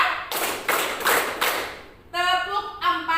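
A group claps hands together in a counted rhythm, a few broad sharp claps close by, followed by a voice speaking.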